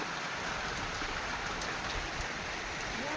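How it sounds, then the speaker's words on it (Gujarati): Light rain falls steadily on a farm, a soft continuous hiss of drops with no talking, holding an even level throughout. "વરસાદ આવી ગયો થોડોક."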